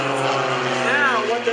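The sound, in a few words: Iron Eagle aerobatic team propeller airplanes flying by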